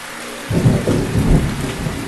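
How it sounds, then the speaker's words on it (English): In a video game, a heavy rainstorm hisses steadily before a deep, rolling thunder rumble swells in and lingers, loud and close with no voices. "It's still raining."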